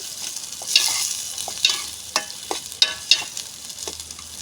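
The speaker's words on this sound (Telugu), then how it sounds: "ఉల్లిపాయలు అయితే మగ్గుతున్నాయండి" Onions softening in a pan for a dried fish curry, a bright sizzle broken by repeated sharp scrapes and taps of a spoon stirring them, close and irregular.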